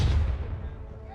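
A Civil War battlefield cannon booms, its deep blast opening loud and rolling out into a long, fading rumble.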